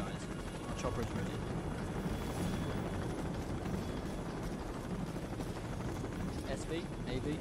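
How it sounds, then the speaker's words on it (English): A helicopter in a video game campaign drones steadily throughout, a continuous rotor and engine rumble under ongoing speech and game sounds. "Our chopper's ready."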